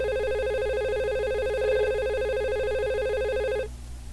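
A simulated VoIP phone rings in Cisco Packet Tracer with a steady electronic warbling tone that holds for about three and a half seconds, then cuts off abruptly into quiet background hum.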